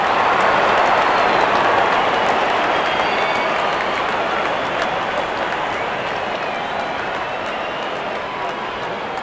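Video game crowd in Real Cricket 24 cheering after a six in an India versus Pakistan Asia Cup final, a broad, steady roar of many voices that holds for several seconds and slowly eases, with no speech over it.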